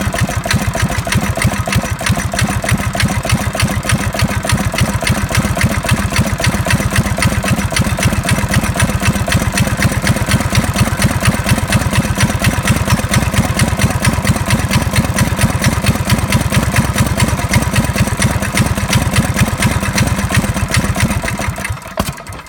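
A Predator 212 small engine fitted with a Tillotson TCT carburetor runs steadily, a loud close chugging putter at a constant rhythm for about twenty seconds before cutting out at the end.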